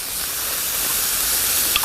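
Vegetables steam with teriyaki sauce and chicken stock for catered yakisoba, giving a loud, continuous bright hiss and sizzle that holds steady throughout, with no talk.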